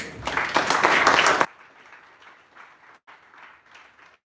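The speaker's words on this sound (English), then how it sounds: "I think you deserve an applause." Audience at an International Sports Day celebration applauding the organizers, a loud burst of clapping lasting about a second and a half before cutting off to a quiet room with faint murmuring.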